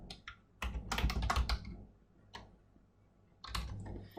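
Typing on a keyboard, heard as close, crisp clusters of keystrokes in uneven bursts with brief pauses between them and no voices.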